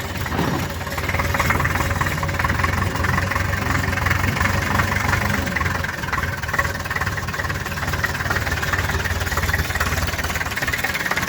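A Ch 4.85/11 diesel engine on a homemade tractor idles steadily nearby, its low knocking rumble continuous and loud throughout.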